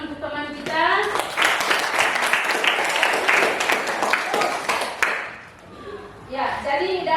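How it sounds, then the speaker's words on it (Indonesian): Classroom applause for a fellow student, a dense wash of many hands clapping for about five seconds, with a teacher's voice speaking before and after. "Tepuk tangan untuk teman kita."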